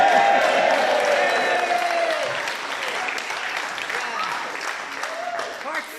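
A crowd gathered at a political campaign meeting applauds and cheers loudly and continuously, with shouts and whoops rising through the sustained clapping.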